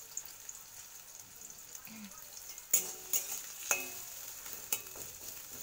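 Chopped onion frying in oil makes a faint, steady sizzle close by, joined partway through by several clear scrapes and clinks of a spoon against the pan, with no talking.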